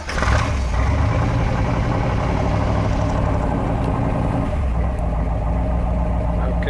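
A rebuilt engine in a 1967 Corvette convertible with a 4-speed idles at about 700 rpm, a loud, close, steady low rumble with an even throbbing pulse and no talking over it.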